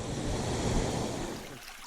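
A hooked hook-jawed fish thrashes in river water at the end of a one-handed spey cast, a broad burst of splashing that fades after about a second and a half, with no talking.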